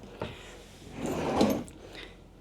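A soft-close kitchen drawer in a Dutchmen Astoria Platinum RV glides shut with a muffled slide that swells and eases into a gentle, damped stop, close and alone.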